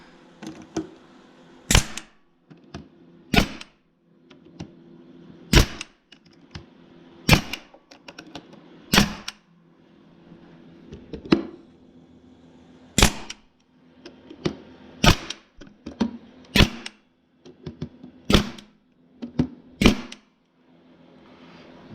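Pneumatic brad nailer firing brads into a wooden end table during assembly, about a dozen sharp cracking shots at irregular intervals, each with a brief clack, close and loud with quiet handling noise between.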